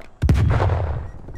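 A stun grenade goes off in a Call of Duty team deathmatch match, one sharp close blast followed by a rumbling decay, loud and alone.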